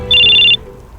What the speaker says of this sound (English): the sound of the phone ringing in Tyson's pocket stops you both short